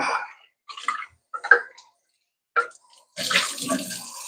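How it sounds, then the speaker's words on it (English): Kitchen tap water running briefly over food being rinsed for pumpkin salsa, short splashy bursts separated by pauses, then a steadier stream at the end, close and moderately loud. "You just rinse this real quick so it doesn't dry out."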